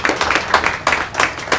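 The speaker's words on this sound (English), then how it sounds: "round of applause to our student representative" Applause for a student representative at a school board of education meeting, a short burst of clapping from a small group in uneven waves, fairly close and loud.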